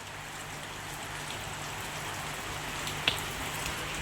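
Rain falls outside a farm home in a steady, soft, even hiss of drops. It is faint and continuous, with one small tap near the end.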